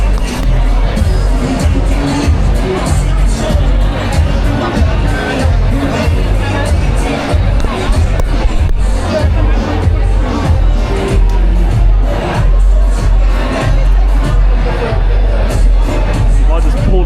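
Dense crowd at a Sunday night DJ street party in Medellin, Colombia, with loud continuous babble, thumping music and occasional bangs and cheers all around, close and busy throughout.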